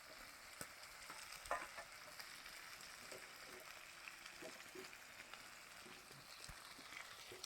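Meat frying in a pan for a gravy-style curry, a steady close sizzle with stirring scrapes and a few sharp clinks running throughout.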